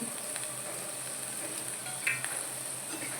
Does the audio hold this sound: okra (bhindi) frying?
yes